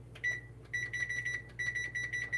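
A kitchen timer beeps in quick repeated bursts while stuffed bell peppers cook, faint and thin over a low steady hum, with short pauses between groups of beeps.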